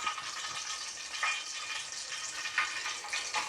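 Green chillies hitting hot oil in a pan and sizzling, a steady close crackling hiss with a few brief louder spits, moderately quiet and with no talking.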